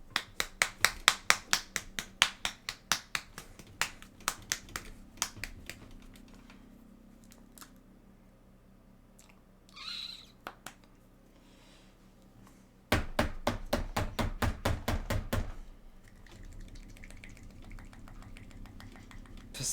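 A bottle of white hobby paint is shaken hard in rapid rattling bursts, with a long run of sharp clicks, a quiet pause with a few scattered knocks, then another fast, louder burst of shaking.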